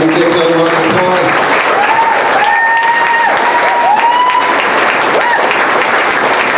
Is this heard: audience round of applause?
yes